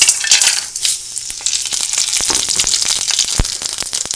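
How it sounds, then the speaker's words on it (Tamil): Masala spices crackle and sizzle in hot oil in a kadai while a chicken gravy is being made, a dense, steady frying hiss with sharp pops throughout, close and loud, no voices. "எண்ணெய் சூடானதும் எடுத்து வச்சு இந்த மசாலா பொருள் எல்லாம் உள்ளே போட்டுடலாம்"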